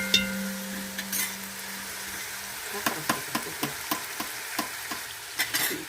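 A spoon stirs tomato paste frying in a pot for Uzbek mastava soup. A soft sizzle runs underneath steady, rhythmic scrapes and taps that grow more regular midway, with no talking.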